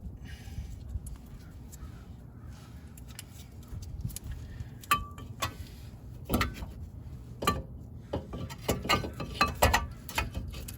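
Ratchet wrench driving a 17mm bolt into a brake caliper carrier on a Honda Fit, heard as irregular mechanical clicks and clanks that grow busier toward the end over a low workshop rumble.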